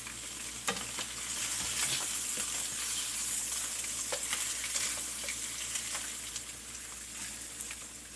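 Eggs sizzle steadily in a frying pan, a bright, continuous crackle and hiss with occasional louder pops, close and with no talking.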